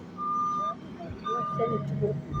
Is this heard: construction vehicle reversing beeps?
yes